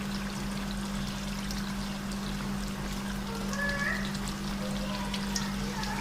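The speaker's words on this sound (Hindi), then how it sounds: "अब डालें क्रीम, एक पैकेट पूरा" Thick cream from a full packet poured into a chicken karahi in a home kitchen, a soft continuous pour over a steady low stove or fan hum, no talking.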